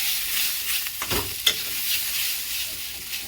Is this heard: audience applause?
no